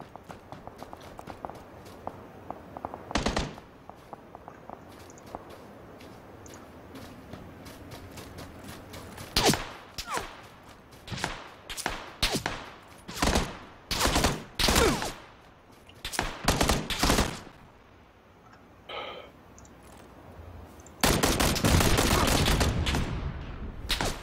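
Gunfire in the PlayerUnknown's Battlegrounds video game: bursts of rapid automatic shots and single cracks over steady background noise, ending in a long sustained volley, with footstep-like thuds between.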